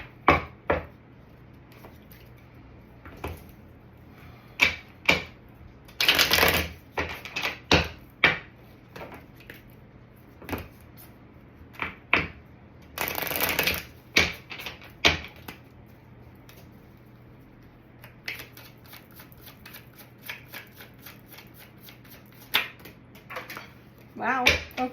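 Cosmic Tarot cards being shuffled and handled, giving sharp irregular taps and slaps with two longer riffling bursts, heard up close against a quiet room.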